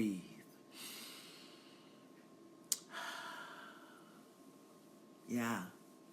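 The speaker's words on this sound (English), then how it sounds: "And we breathe." During a guided loving-kindness meditation, a person takes slow, deep breaths, with about three soft airy inhales and exhales spaced a couple of seconds apart in a quiet room.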